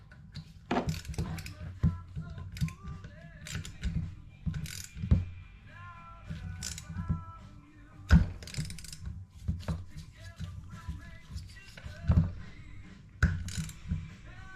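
Ratchet tightening screws on a Homelite engine during a teardown, clicking in repeated short runs with metallic taps and clatter between them, close up.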